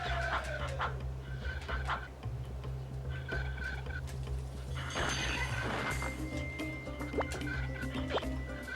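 A bird squawks and gobbles in repeated short calls in the Kirikou PS1 video game, heard over a constant low game hum.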